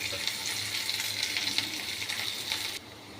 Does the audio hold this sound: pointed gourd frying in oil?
yes